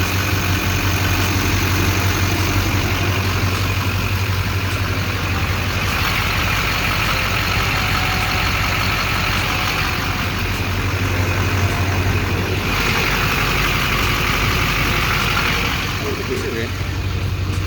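A diesel LB7 Duramax pickup truck engine with an upgraded 3-inch intercooler pipe rumbles at a steady, low idle close by, with a constant broadband drone throughout and no clear start-up burst.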